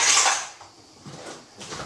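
Plastic bowls clatter and knock as they are handled and set down in a kitchen sink, a bright burst at first, then a couple of softer bumps close by.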